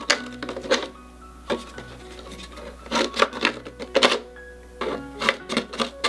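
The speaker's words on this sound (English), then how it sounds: "I go into each corner and just give a slice with your scissors" Scissors cut into the corners of a cardboard gift mailing container, giving a series of short crisp snips and crunches in irregular bursts, close and fairly quiet, with no talking.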